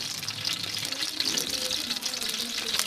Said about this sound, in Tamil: மழை நல்லா வேகமாக வருது